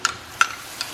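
Tomatoes and onions for tawa chicken stirred vigorously in a pan, three quick scraping strokes spaced about evenly, close and fairly faint, with no talk.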